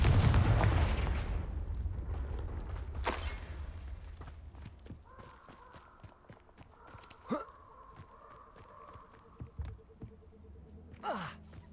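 In the Hogwarts Legacy video game, a Confringo spell explosion opens with a loud burst that rumbles and slowly fades, followed by scattered faint thuds and small magical game effects.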